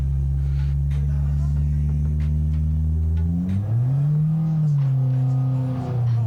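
Car engine in the BeamNG driving game holds a steady low drone at highway cruise, then shifts pitch with a gear change and settles again, smooth and continuous with no talking.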